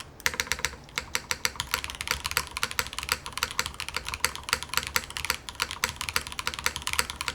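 Rapid, steady typing on a mechanical keyboard fitted with regular cheese switches, dense close-up clacks with no one speaking.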